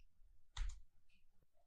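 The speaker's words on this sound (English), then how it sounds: "let me press enter button from my keyboard" The enter key pressed on a computer keyboard, one brief, sharp click close by against quiet room tone, followed by a fainter tap.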